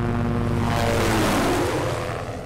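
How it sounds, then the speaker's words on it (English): A loud helicopter engine drone with a steady rotor throb passes close overhead in the video game Project Zomboid, swelling and then slowly fading. "I can hear a helicopter."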